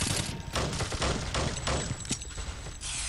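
Rapid double pistol gunfire from the video game Boring Man 4: a dense, loud run of overlapping sharp shots that keeps firing almost without pause across the whole stretch.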